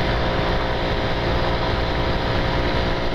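Honda Pop 110 motorcycle engine running in fourth gear, a constant droning hum that holds steady throughout with no voices over it.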